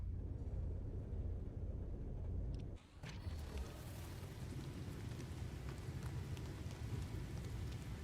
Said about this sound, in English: We're absolutely going to get hit with a storm.